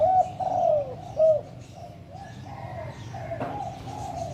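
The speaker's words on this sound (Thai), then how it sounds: "ตัวเมียกำลังขันเรียกอยู่นะครับ" A female spotted dove calls with several soft, hollow coos in an uneven series, fairly close and clear over a low background hum, with no talking.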